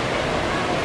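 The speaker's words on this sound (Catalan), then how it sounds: "revolcant-se amb aquestes onades que tenen una força extraordinària" Powerful ocean waves crash on a beach at Panxón, a dense, steady roar of surf filling the short moment without a break, loud and close.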